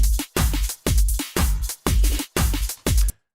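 Straight, unswung African drum kit pattern programmed in Logic Pro, playing seven evenly spaced loud hits in a steady, rigid rhythm with deep booming lows and bright attacks, ending in silence.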